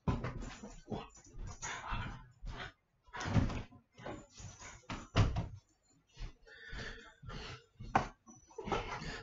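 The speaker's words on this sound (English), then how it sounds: "Let me open this door." A door opening amid scraping, knocking and clattering handling sounds in a lab, with agitated dogs audible. The bursts are irregular and mid-distance, with gaps of quiet between them.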